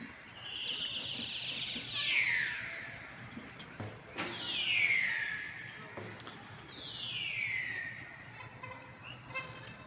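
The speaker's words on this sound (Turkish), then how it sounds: "Geri geldiler kuşlar" Birds in Birecik, Şanlıurfa, Turkey give three long, shrill descending calls, each swelling and fading as if sweeping past overhead, over a low steady background rumble.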